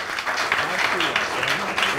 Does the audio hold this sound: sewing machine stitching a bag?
no